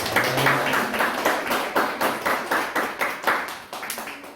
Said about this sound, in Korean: 하나님께 영광의 박수 드리겠습니다